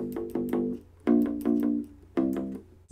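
A short groove on a U-Bass with flatwound strings, picked down and up, three bursts of quick notes with a deep, round tone. It is close and clear, with no talking.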